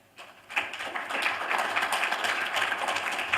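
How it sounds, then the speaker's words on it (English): An audience claps for four panelists at a conference session, the applause swelling in after a brief quiet start and holding as a dense, steady patter of many hands. "Please join me with an applause for our 4 panelists"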